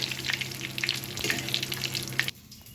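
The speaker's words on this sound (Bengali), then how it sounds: "এইভাবে সমস্ত পানিরগুলো আমি ফ্রাই করে নেব" Pieces of paneer frying in hot oil, a dense close crackling sizzle with sharp pops that stops abruptly near the end, leaving near quiet.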